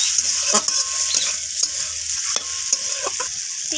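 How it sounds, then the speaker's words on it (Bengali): Ridge gourd is stirred with spices and a pinch of sugar as it fries in a pan: a close, constant sizzle broken by repeated scraping strokes of the spatula, with no voices. "তো সমস্ত কিছুকে মশলার সাথে একদম নাড়াচাড়া করে এইভাবে একটু কষিয়ে নেব।"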